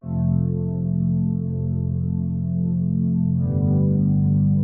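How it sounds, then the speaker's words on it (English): A dark, sustained synth pad hums low and steady, its tone shifting slightly partway through, with no other sounds. "I added this dark pad underneath those two pianos."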